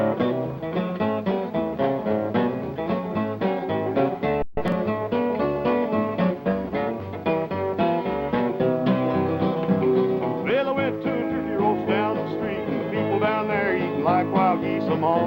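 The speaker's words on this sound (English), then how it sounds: "sit down and do a little flat top picking" Flat top acoustic guitar picking a tune with a country band joining in, a steady, bright, loud instrumental run of plucked notes and chords with no singing.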